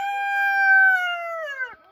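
A rooster crows once, loud and close, in a backyard poultry flock, a long sustained cock-a-doodle-doo that holds steady before dropping off sharply at the end, heard alone.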